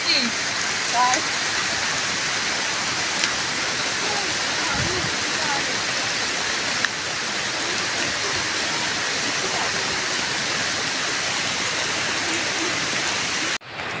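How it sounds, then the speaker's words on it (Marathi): The Kinalos waterfall in Konkan, Maharashtra roars in a loud, unbroken rush throughout, cutting out briefly just before the end. "बघा ह्या बाजूला आवाज येतोय इथे खाली राहिला आहे धबधबा"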